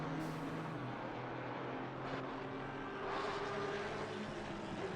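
Race cars in a sim-racing league event at Donington, two Porsches and an Audi, drone steadily in a continuous engine roar at mid distance, with a brief pass swelling near the three-second mark and no talk.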